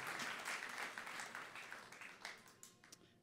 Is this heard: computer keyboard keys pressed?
no